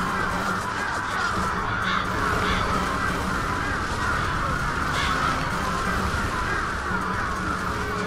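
A flock of crows thrown by a witch in the video game Bullet Witch caws repeatedly and loudly in a continuous, overlapping chorus amid game action for several seconds.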